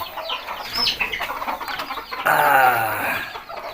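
Chickens on a poultry farm cluck and squawk close by, one bird letting out a longer drawn-out call midway, busy and fairly loud.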